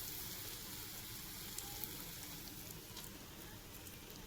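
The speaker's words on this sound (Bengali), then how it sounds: "তোমাদেরকে ভেজে দেখাবো কেমন" Food fries in a pan with a faint, steady crackling sizzle throughout, with a few small pops and no voices.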